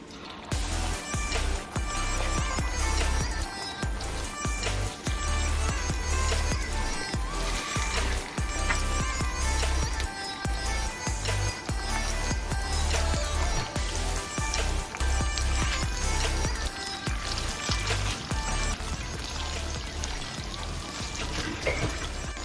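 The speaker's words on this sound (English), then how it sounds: "I'll be frying my chicken pieces in this." Steady, dense crackling and sizzling of chicken pieces frying in hot refined oil, continuing without a break and fairly loud throughout.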